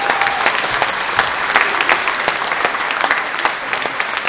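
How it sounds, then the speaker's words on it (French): Theatre audience applauding the stage director at a 2005 stage show, a dense, steady wash of many hands clapping close and loud throughout, with no voices. "je crois que ça vaut la peine de l'applaudir"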